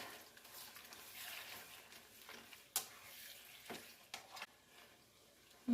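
Chopped onions sizzle softly in a pan for a tater-tot casserole while being stirred, with a few sharp scrape and clack sounds from the utensil against the pan over a low, steady fry.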